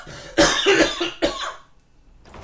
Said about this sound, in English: And as always, I'm gonna cough.